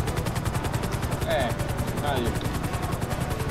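A helicopter flies in GTA V Online across a snow-covered city, its rotor giving a steady, loud pulsing throb throughout with brief game sound effects over it and a few spoken words.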